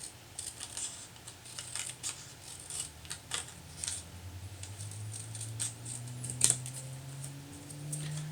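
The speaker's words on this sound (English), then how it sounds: "I'm using my larger pair of scissors" Large scissors snip through card pieces being cut out for a handmade Father's Day card, with a run of close, crisp cutting clicks and rustles that come steadily and get louder near the end.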